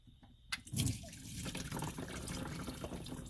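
Coolant drips and trickles out of a car engine during a repair, a quiet liquid spatter with a brief louder splash near the start, then a soft continuous dribble.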